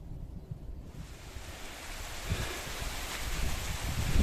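Heavy rain pours down with gusting wind over a lake, a dense steady roar that builds slightly louder toward the end, close and continuous with no talking.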